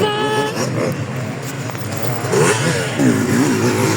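Endurance race vehicle number 40 passes by with a loud, close engine roar and shifting revs, accelerating as it goes past, with other engine noise around it.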